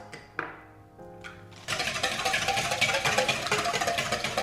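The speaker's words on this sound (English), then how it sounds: "Now you can whisk it by hand like I'm doing here" Eggs being whisked by hand for custard: after a few sparse clinks, a dense, rapid, continuous metallic scraping and tapping starts and carries on loud and close to the end.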